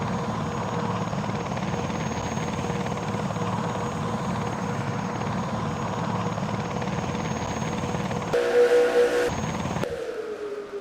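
A helicopter in a stock car racing video game hovers with a steady, loud rotor drone that runs almost continuously, then cuts briefly to a different engine tone near the end.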